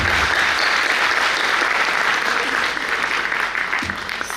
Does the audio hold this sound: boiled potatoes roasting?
no